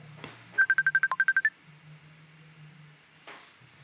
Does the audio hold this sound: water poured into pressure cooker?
no